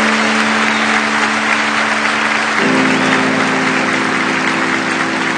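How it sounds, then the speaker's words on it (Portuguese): Church congregation clapping loudly and continuously, a dense wash of hands with a steady low hum beneath that shifts pitch partway through. "Pode aplaudir mais forte aí, querido"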